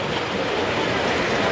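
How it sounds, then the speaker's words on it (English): An O gauge model train in a holiday display at Grand Central's New York Transit Museum rumbles steadily along its track, a continuous loud clickety-clack of wheels with faint squeals and no voices. "Oh, here comes that train."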